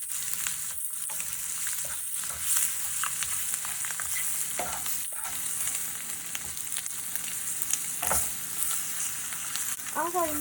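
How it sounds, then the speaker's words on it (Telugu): Powdered spices, turmeric and chili frying in a pan for egg pulao: a steady, moderate sizzle with occasional stirring scrapes and clinks, continuous and fairly close. "ఇవి స్పైసెస్ అన్ని కొంచెం కారంలో ఫ్రై అవ్వాలి."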